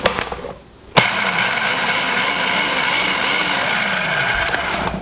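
Food processor pulsing dry pie crust ingredients with salt, a loud whirring motor that kicks in after a brief pause and runs steadily for several seconds before cutting off.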